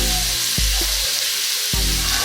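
Pot roast searing in hot avocado oil with garlic in an Instant Pot, a steady loud sizzle and crackle with a few brief thumps as meat is moved, no talking.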